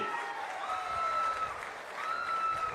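Audience clapping at a government event with the chief minister, a steady moderate burst of applause lasting a few seconds, with some voices and a faint tonal hum mixed in.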